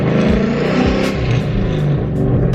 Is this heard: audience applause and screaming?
no